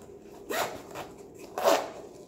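A foldable reusable shopping bag being worked open by hand, giving two short rustling, scraping bursts about a second apart, close and fairly quiet with no talking.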